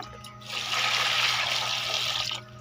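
Santol fruit rinsed under running tap water, a steady close rush of splashing water lasting about two seconds before cutting off.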